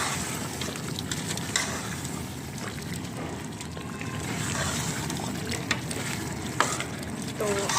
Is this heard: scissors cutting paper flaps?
no